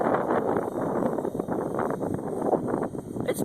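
Strong gusty wind buffets the microphone near a flying 450-size RC helicopter, a dense continuous rumbling roar with fluctuating intensity and no clear rotor tone.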